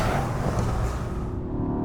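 A 2021 Mercedes-AMG GLE 63 S V8 engine revs with a loud, full-bodied rumble that stays strong and continuous throughout.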